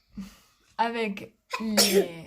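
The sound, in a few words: sneeze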